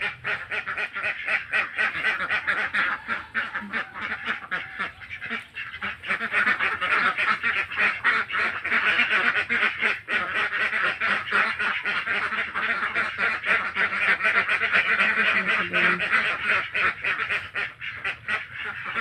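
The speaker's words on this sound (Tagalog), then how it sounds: "dito pala yung mga pato sa kapatid ko" A flock of ducks at a family home quacks almost nonstop, a dense, busy chorus of close, overlapping calls with a few honking notes mixed in.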